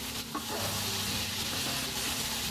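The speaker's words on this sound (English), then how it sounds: "Add 1 cup of sugar to it. And give it a mix quickly." Sugar is stirred quickly into carrot halwa cooking in a pan, giving a soft, steady moist sizzle with faint scraping from the spoon, quiet and close, no voices.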